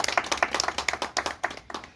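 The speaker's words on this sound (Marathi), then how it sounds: "सर्वांनी टाळ्या" Audience applause at a community event marking the birth anniversary of Ramabai Ambedkar: an irregular patter of many hands clapping, fairly close and steady, with no one talking.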